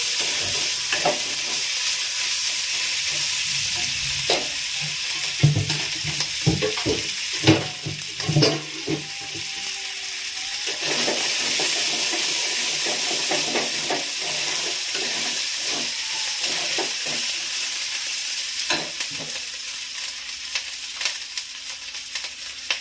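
Green chilies frying in a pan with a fish mixture for fish cutlets: a loud continuous sizzle and hiss with repeated scraping and stirring knocks of a spatula, close up and without talk.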